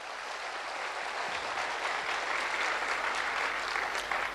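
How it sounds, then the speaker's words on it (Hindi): A seated audience at a business award event applauds loudly and continuously, a dense, even roar of many hands clapping together close by. "जोरदार तालियां बजाइए सर"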